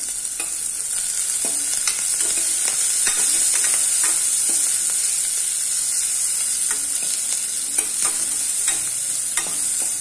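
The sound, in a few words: chopped onion and garlic sautéing in a pan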